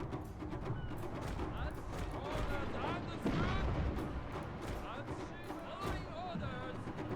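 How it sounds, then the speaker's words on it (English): Naval explosive shells from warships in Total War: Shogun 2 Fall of the Samurai boom and burst amid continuous battle noise, heavy rumbling thuds layered under someone talking throughout. "I think I'm just on the edge of explosive shell range, so my shells are, some of them are exploding short of target."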